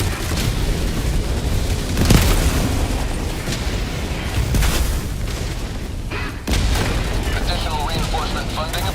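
Walking barrage in Helldivers 2, heavy artillery shells striking one after another: repeated booms with rolling rumble at irregular intervals, loud and fairly close, mixed with game effects and some speech.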